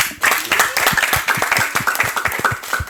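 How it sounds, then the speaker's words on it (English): An audience on a Burkina Faso school TV program claps for a university doctor, fairly close, uneven rhythmic handclaps from a smallish group over a few seconds. "We are also clapping for him."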